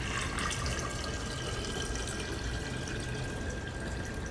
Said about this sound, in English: We're going to pour some water into our container.